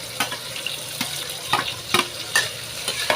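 Tomato, onion and green chili fry in a pan, a soft sizzle broken by a few evenly spaced scrapes of a spatula stirring, quiet and close with no talk.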